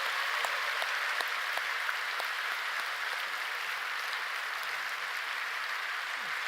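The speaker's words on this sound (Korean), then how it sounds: "우리 청년부를 위해서 박수 한번 치겠습니다." Congregation applauding at a Friday night worship service in a Korean church, steady dense clapping sustained at even volume throughout with no talk over it.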